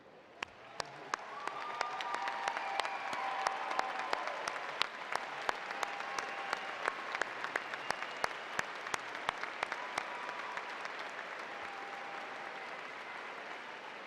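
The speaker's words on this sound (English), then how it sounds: "please stand and applaud the newest members of our UNI family" Large audience at a university fall commencement ceremony applauds for graduates, sustained dense clapping in a big hall with a few sharp individual claps standing out, continuing steadily for many seconds.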